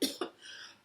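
A person coughs twice in quick succession during a grief-focused tapping session, two short, close bursts followed by a faint breathy tail, quiet overall.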